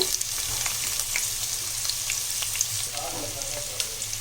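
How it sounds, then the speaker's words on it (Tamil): Long, thinly sliced large onions frying in oil with cardamom in a pot for plain kuska biryani, giving a steady, close crackling sizzle throughout with occasional stirring scrapes. "இப்போ இந்த வெங்காயம் நல்லா வதங்கணும்"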